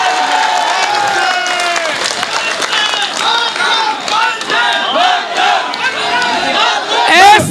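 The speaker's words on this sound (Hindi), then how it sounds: "एक बार दिल्ली पुलिस के सम्मान में तालियां उठे आपकी।" At a poetry recital, a large crowd claps and cheers loudly in honour of the Delhi Police, dense clapping mixed with shouted, chant-like voices that swell toward the end.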